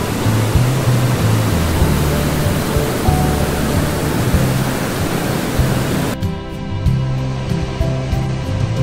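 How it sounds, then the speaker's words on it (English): A loud, steady roar of falling water from the waterfalls at Letchworth State Park fills the scene, broad and unbroken, then suddenly cuts to a quieter, thinner rush near the end. "Thousands of gallons of water tumbling loudly over these waterfalls every second."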